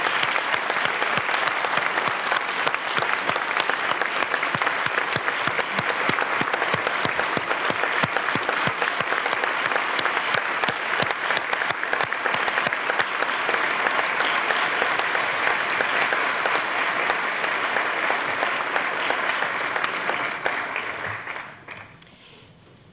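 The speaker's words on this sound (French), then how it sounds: "Est-ce qu'on peut les applaudir encore une fois" A large audience applauds steadily at a francophone civic gathering hosted by Ottawa's mayor, honouring the founders; the dense clapping stays loud for about twenty seconds, then fades out quickly at the end.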